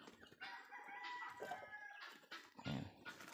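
Turkeys on a farm with about a hundred breeding birds give a few close gobbling, clucking calls in quick bursts, fairly faint, with short gaps between them.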